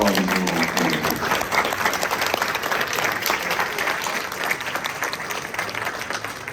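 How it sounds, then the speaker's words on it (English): A film festival audience in El Paso breaks into steady, dense applause that fills the room from start to finish, many hands clapping at once without pause. "Round of applause one more time for all these filmmakers."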